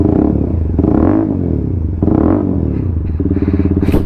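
Zontes ZT125 motorcycle fitted with an SC Projects exhaust, revving loudly in repeated surges with a deep throaty drone and crackle near the end, close by and without talk.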